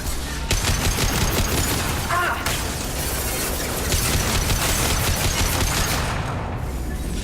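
Gunfire in the Mass Effect 2 video game, a dense continuous fusillade of rapid shots and bursts that stays loud throughout with no speech over it.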